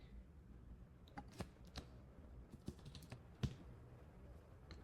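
Manual typing on a computer keyboard while entering a vocabulary word, heard as sparse, soft key taps spread through a few seconds over a low room hum, with no talking.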